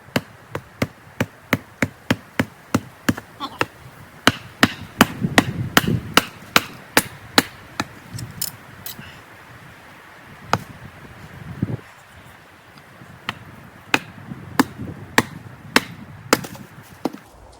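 Sharp, evenly spaced wooden cracks from an axe splitting firewood at a campsite, a quick run of strikes, a short pause, then another steady series, loud and close with no talking.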